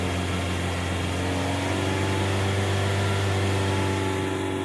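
A car engine runs at a steady raised speed, giving a constant, even drone with strong low harmonic hum and no clear rise or fall, fairly close and without voices.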